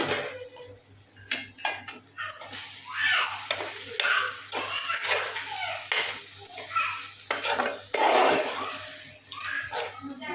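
A spoon stirs potato kurma with beans and carrots in a pan, with repeated scraping and clinking strokes over a soft simmering sizzle, close by, with occasional faint background voices.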